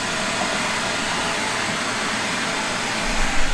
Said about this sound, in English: Thought we'd vacuum out the interior.